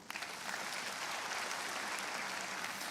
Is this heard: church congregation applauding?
yes